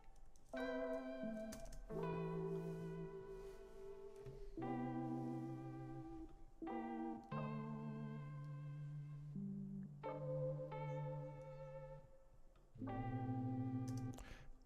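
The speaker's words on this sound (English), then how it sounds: "this multi-key sounds kind of cool" A multi-keys synth patch plays a sequence of sustained chords in a live beatmaking session, each chord ringing clearly with rich layered tones, separated by brief gaps and ending on a louder final chord.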